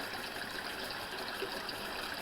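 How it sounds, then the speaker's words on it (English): A cold water tap runs steadily at Bonneville Hot Springs, water gushing in an even, continuous hiss close by, with no talking. "I'll have to turn on the cold water"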